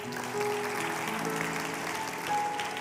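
Congregation applauding in church, a steady broadband wash of clapping filling the whole stretch at moderate level, with faint sustained organ or keyboard tones held underneath.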